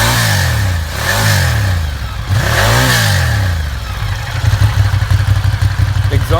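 Exhaust of a 2016 Ducati Diavel cruiser motorcycle, loud and close, rising and falling in repeated revving sweeps before settling into a rough, pulsing idle.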